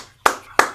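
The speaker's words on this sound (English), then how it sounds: "The sound of one person clapping." A single person claps twice during a casual online music hangout with a pianist, two sharp, close, loud claps spaced about a third of a second apart with quiet between them.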